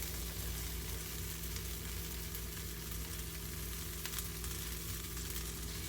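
A chicken quesadilla cooking in a pan, giving a steady, even sizzle with a faint low hum underneath, constant from start to finish with no voices.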